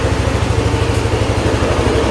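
A repaired Yamaha NMAX scooter engine idles close by, a steady, even low throb with a smooth rhythmic pulse that holds for about two seconds with no voices.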